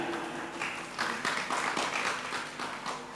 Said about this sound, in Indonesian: Terima kasih Pak Anton, Pak Fendi, beri tepuk tangan dong buat guru kita